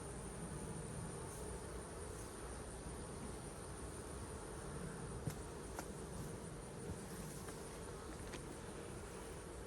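Honeybees at an apiary hive give a steady, faint insect drone that stays even and continuous throughout, with a few faint clicks and no voices.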